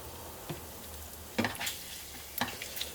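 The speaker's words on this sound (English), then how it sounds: "So crispy bacon it is. Just remove it from the pan." Crispy bacon sizzles in a pan, a faint, even frying hiss broken by a few sharp clinks and scrapes as pieces are lifted out, quiet and close with no talking.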